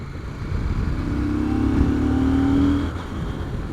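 A 2022 CF Moto 800MT motorcycle engine with a fueling fault chugs unevenly at close range, its low drone rising slightly in pitch and then dropping away near the end.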